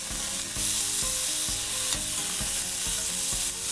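Meat browning in a hot pan for Chinese noodles, a loud, close, continuous sizzle broken by rhythmic stirring strokes about every half second, with no talk.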